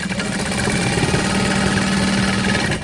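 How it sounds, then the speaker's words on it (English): Sewing machine stitching across the top of a recessed zipper panel on a bucket bag, a steady loud close whirring hum with fast rhythmic needle chatter throughout. "I like to sew across the top."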